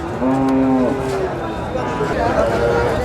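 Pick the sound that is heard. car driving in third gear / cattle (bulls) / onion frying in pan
cattle (bulls)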